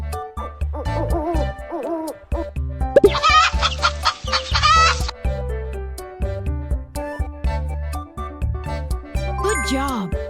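A hen clucks in a children's animal-sound game, a short burst of squawky clucking set against bouncy, cheerful background music.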